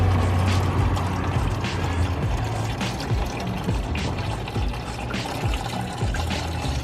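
Coolant drains steadily from the reservoir of a 2002 Mustang GT, a continuous close trickling and pouring of liquid with some faint mechanical rattles underneath.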